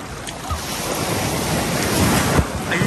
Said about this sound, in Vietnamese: Sóng đánh sướng thật đấy.